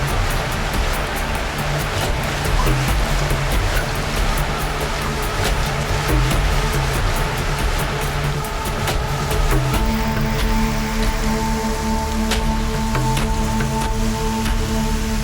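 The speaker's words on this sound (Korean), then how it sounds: "갑작스런 호우는 단비가 되어 폭염에 신음하던 사막을 적십니다" Sudden heavy rain pours steadily over a desert in a dense, continuous wash of hiss with scattered spattering, loud and constant throughout.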